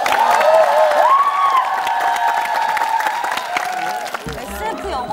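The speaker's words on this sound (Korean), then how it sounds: "그냥 필요한 건 박수밖에 없네요" A studio audience at a Korean variety talent show claps and cheers loudly, the applause mixed with shouts and excited voices before thinning out near the end.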